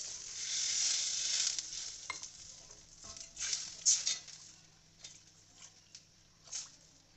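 Khandeshi shev bhaji curry sizzles and hisses in a hot pan, with occasional stirring scrapes and soft bubbling pops as it comes to a boil, close and fairly quiet.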